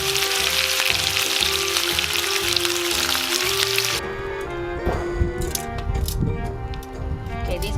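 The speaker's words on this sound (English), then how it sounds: "I'm gonna fry it up a little bit so it gets a little bit crispy and a little more flavorful" Leftover adobo fries in a pot until crispy, giving a loud, steady sizzle for about four seconds, then quieter crackling and stirring clatter, with a voice talking over it.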